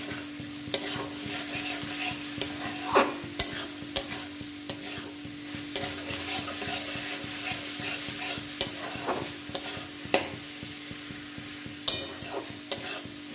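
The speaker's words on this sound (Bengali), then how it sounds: "তেলটা যতক্ষণ না বেরিয়ে আসে ততক্ষণ কষতে থাকবো" Chickpea masala sautéed in oil in a pan with a spoon, steady sizzling under repeated scraping stir strokes, close and moderately loud, with no voices.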